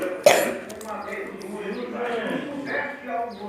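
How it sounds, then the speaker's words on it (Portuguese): A child coughs once, a sharp loud burst near the start, followed by softer throat sounds and talking for the rest. "Tá tossindo, gente."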